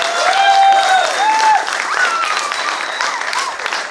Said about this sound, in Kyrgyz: Кол чаап отурганыңарга ыраазычылык билдиребиз.